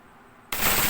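A WE Hi Capa 5.1k airsoft pistol fires full auto: after a brief quiet moment, a sudden loud, dense, continuous burst of rapid shots erupts close by and holds to the end.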